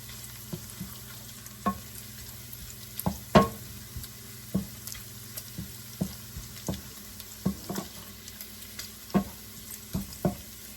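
Bacon frying in a pan for sautéed cabbage, a steady low sizzle punctuated by frequent sharp spatters and utensil taps at an irregular rhythm, close and moderately quiet, with no voices.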